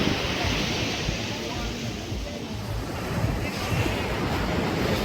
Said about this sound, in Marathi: इथं समुद्र आहे.